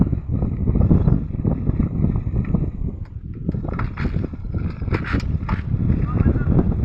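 A Hero Splendor motorcycle rumbles along under heavy wind buffeting on the microphone, a loud steady low drone with a voice talking over it.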